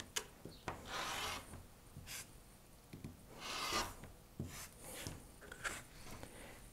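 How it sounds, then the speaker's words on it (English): A rotary cutter drawn along a ruler trims two sides of a quilt block, giving soft repeated scraping strokes with small taps between them, close and quiet with no talking. "So let's trim two sides."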